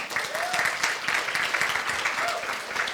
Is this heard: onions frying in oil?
no